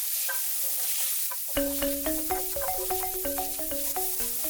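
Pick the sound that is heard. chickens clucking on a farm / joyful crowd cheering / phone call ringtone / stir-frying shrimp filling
stir-frying shrimp filling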